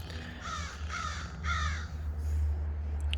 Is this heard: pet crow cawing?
yes